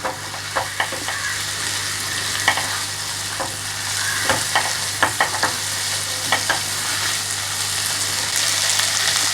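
Tomato stirred into sizzling mushroom kadai in a pan: steady frying hiss with irregular scraping and clinking stir strokes throughout, fairly close, no voices.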